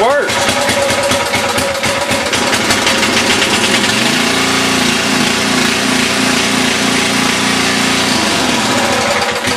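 A small gasoline engine sputters to life and settles into a loud, steady running drone, with a shift in pitch partway through as it keeps going on its own.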